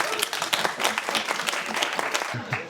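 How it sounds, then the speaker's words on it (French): Audience clapping at a French live show, a dense close burst of many hands striking in quick irregular claps, fairly loud and steady throughout, with a voice briefly audible near the end. "Je crois qu'on peut tous applaudir."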